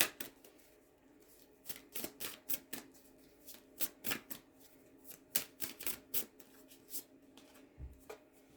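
Playing cards are drawn and shuffled up close in a quiet room, with a string of sharp, quick riffling snaps and flicks arriving in uneven bursts and no talking.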